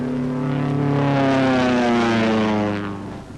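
A 1944 Army Air Forces propeller warplane roars past at low altitude on a skip-bombing run, its engine drone loud and steady, rising and then fading slightly at the end.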